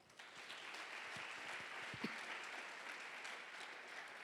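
Congregation in a church applauding Jesus, a steady wash of clapping held throughout at moderate level with a few sharper individual claps standing out.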